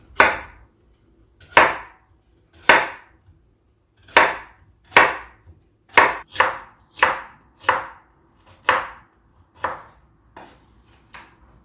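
A knife slices lotus root into half-centimetre rounds on a cutting board, about a dozen crisp, close chopping strokes in an uneven rhythm with short pauses between them.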